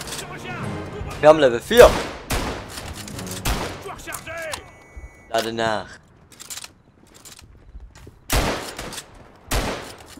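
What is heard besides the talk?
gunfire in the video game Verdun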